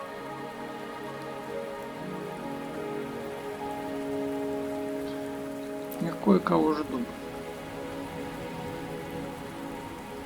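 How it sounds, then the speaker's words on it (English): Steady rain falls in the video game Wuthering Waves, a constant patter on surfaces under a soft musical drone, with a character briefly speaking partway through. "Are you trapped here by the rain?"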